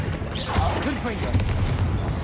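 Confringo fire spell blast in Hogwarts Legacy, a fiery burst with crackling impacts amid busy combat noise, with a voice speaking over the action.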